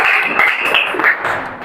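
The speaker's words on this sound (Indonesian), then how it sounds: "Oke, good job, beri tepuk tangan." Students in a classroom applaud together, a loud, dense burst of clapping that fills the room for under two seconds, mixed with a few voices.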